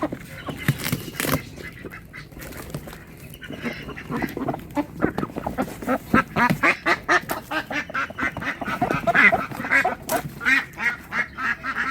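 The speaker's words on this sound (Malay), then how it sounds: "Tu dia, kita tambah lagi itik jambul" Crested ducks in a garden quack loudly and repeatedly, a dense run of overlapping calls that grows busier and more rhythmic toward the end.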